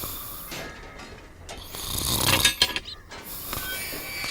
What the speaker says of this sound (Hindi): बड़ा अजीब आदमी है, सुबह सुबह भी खर्राटे मारकर सो रहा है।